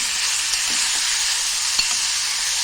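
Chilies and curry leaves sizzling in a tempering for a beetroot salad, a dense continuous hiss with a few faint stirring clicks, close and fairly loud, with no talking.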